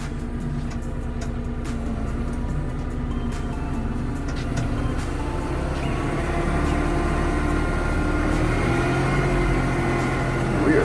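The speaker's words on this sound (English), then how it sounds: "You can hear it working, you can hear the engine rev a little bit when I step on one of the brakes" A Kubota 3560 tractor engine drones steadily while pushing snow, a continuous low mechanical hum with harmonic whine that grows rougher and louder partway through, close and constant.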